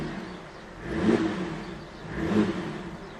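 Ex-police Holden Commodore engine idling steadily up close, with two rising revs that swell and fall back about a second apart.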